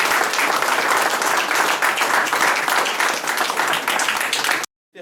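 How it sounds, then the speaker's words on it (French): A roomful of people applauds a guest at a talk, dense continuous clapping that holds steady for several seconds and then cuts off abruptly. "je vous invite à l'applaudir"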